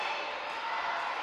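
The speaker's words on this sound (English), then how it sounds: "Listen to this crowd, fully behind their hero, the redneck kid, Robby Collins." Cheers from a wrestling arena crowd rooting for Robby Collins hold as a steady, dense roar with no breaks.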